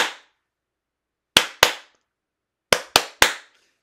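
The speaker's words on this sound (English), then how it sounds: "I clap twice, you clap twice." Sharp hand claps in a pattern: one clap, then two quick claps, then a pause before three more in quick succession.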